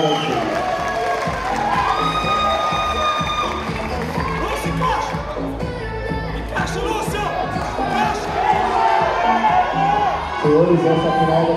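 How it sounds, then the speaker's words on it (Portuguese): A crowd at a classic bodybuilding competition cheers, shouts and applauds continuously, with loud excited voices, whistles and background music blending into one dense roar. "E chamar as atletas, uma salva de palmas, muito obrigado."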